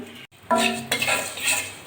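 Flattened rice (chira) tempered with black cumin is fried and stirred in a pan, with close scraping and metallic clatter in uneven strokes over a soft sizzle.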